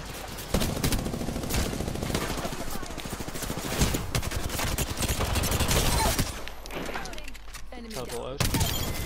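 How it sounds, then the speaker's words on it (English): Dense, continuous automatic gunfire and explosive bursts from the video game Apex Legends, loud and almost unbroken, with a few sharper impacts and a brief lull near the end. "Shots fired and they're hitting me."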